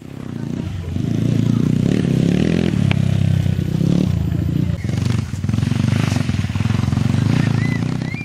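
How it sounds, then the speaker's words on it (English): A scrambler dirt bike rides on a track, its engine droning and revving loudly and fairly close throughout, with a voice talking over it. "During my spare time, I always go for scrambler riding."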